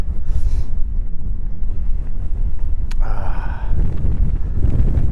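Strong wind buffets the microphone on a rocky tor on Dartmoor, a loud, continuous low roar with gusty swells and brief rustling bursts throughout.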